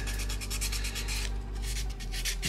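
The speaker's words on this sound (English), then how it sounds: "Now what we will do, it's a little bit sanding" Sandpaper rubbing on the plastic body of a Tamiya Porsche Carrera GT Gemballa Mirage model kit, a steady close scraping in quick repeated back-and-forth strokes.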